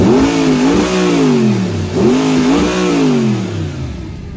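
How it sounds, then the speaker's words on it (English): A raspy V8 engine of an Audi R8 revs hard twice, pitch climbing and falling in rolling surges, loud and close with a throaty crackle throughout. "hopefully the camera can pick up the raspy V8 that this vehicle does"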